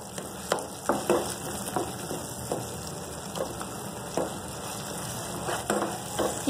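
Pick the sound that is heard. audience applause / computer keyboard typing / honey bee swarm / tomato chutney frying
tomato chutney frying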